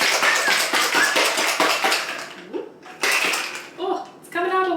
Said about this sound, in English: Now, just put your lid on and give it a good shake.